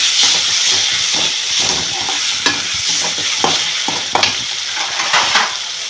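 Tomatoes with salt cook in a pan for homemade kothu parotta, giving a steady, close sizzle and hiss with scattered clacks and scrapes of a spoon stirring throughout.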